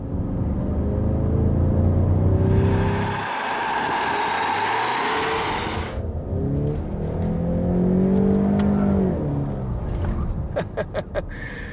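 A Ford Mustang with the 2.3-litre EcoBoost engine drifting makes a loud, steady engine drone with rising and falling revs and a burst of tyre hiss, ending in sharp revving pulses.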